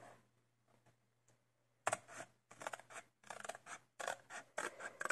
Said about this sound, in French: je vais carrément prendre mon ciseau et je vais couper